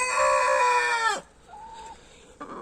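A chicken gives a loud, drawn-out squawk that breaks off abruptly, followed by a softer cluck and a brief scratchy rustle nearby.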